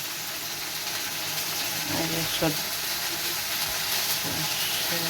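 Okra (bhindi) frying in a home kitchen pan, a steady close sizzle and hiss with a few light clinks of stirring.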